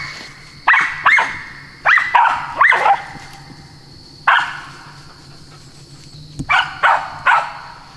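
Squirrel-hunting dog barking in the woods, sharp yelping barks that come in quick clusters of two to four with short pauses between, fairly close and loud over a quiet outdoor background.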